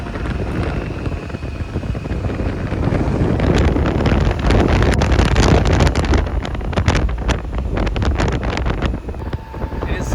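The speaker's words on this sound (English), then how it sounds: "super windy out here" Strong wind in Red Rock Canyon buffeting the microphone in loud, continuous roaring gusts, with no voices.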